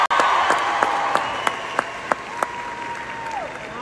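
Concert audience applauding for a fan's parents at a live show, steady dense clapping with crowd noise sustained throughout, a tonal whistle or held note running over it.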